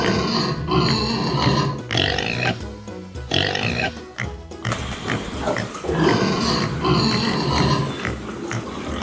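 Pigs on a farm grunt and squeal repeatedly in close, loud bursts, with brief pauses between calls and a mix of low grunts and higher snorts.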